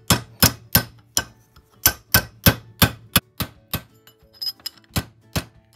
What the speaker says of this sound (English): I might try hammering it, bending it back and forth a little bit.